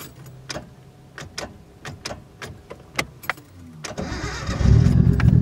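A 1991 Nissan Skyline GTS-T Type M engine, with a drained battery, cranks with several sharp clicks and starter attempts, then catches and roars into a steady, loud idle.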